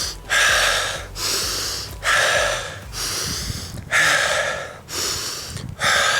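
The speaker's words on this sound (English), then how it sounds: "so have those deep breaths" Deep, heavy recovery breaths after a sprint in soccer training, about six loud, close inhale-exhale cycles in a steady rhythm, each breath a broad rushing whoosh.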